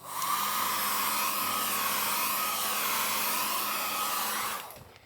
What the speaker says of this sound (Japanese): 鮮やかなままこの状態で、一回乾かそうと思います